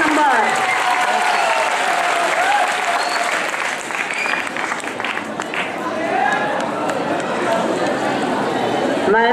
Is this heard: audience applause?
yes